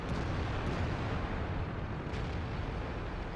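Continuous low rumbling barrage of artillery explosions in the Strongholds video game, dense and heavy throughout with no clear gaps, like distant shelling rolling on without pause.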